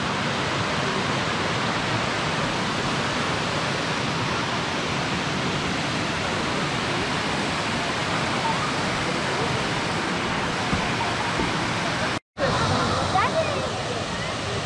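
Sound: Mumlava waterfalls, rushing water

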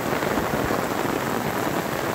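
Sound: rain falling in the Bahia backcountry

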